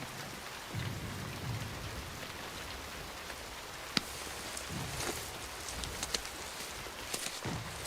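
Steady rain pours down in a dense, even hiss, with a faint rumble of distant thunder and a few sharper drips standing out, in the 2001 war film The Lost Battalion.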